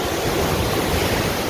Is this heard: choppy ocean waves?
yes